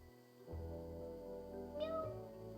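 A pet cat meowing indoors, a single short meow rising over a low steady background hum, faint and close.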